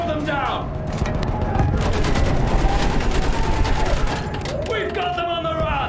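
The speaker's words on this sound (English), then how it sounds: "Use that machine gun. Mow them down." Machine gun fire in the video game Battlefield 1 rattles in dense rapid bursts, loud and continuous through most of the stretch, with explosions and a voice calling out over the battle.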